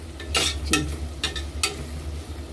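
Vegetables cooking in butter in a pot for Mexican rice are stirred, giving a few brief scraping swishes over a low steady cooking hum, close and moderately loud with no talking.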